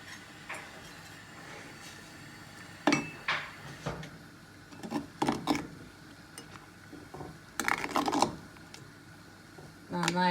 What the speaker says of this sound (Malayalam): നന്നായിട്ടൊന്ന് ഇളക്കുന്നു.